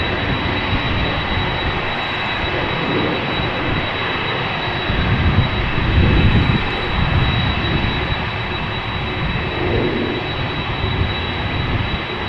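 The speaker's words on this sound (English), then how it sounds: "China Airlines cargo going to Bangkok, 747-400 freighter, 21 years old, first flight March 2002, flight 5546." Departing Amsterdam Schiphol, a 21-year-old China Airlines Boeing 747-400 freighter sends out a loud, sustained jet-engine roar with a steady whine on top. The rumble swells midway and then settles, with no voices.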